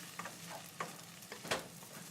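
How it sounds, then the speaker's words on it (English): Pork fried rice being stirred in a frying pan gives faint scraping strokes and light soft sizzling, a handful of brief irregular scrapes over a low background hiss. "So we'll just mix this up real good here."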